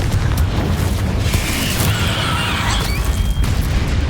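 A fire spell blasts in the video game Hogwarts Legacy, a dense rumbling boom with a bright crackling burst that hangs on as a steady roar throughout.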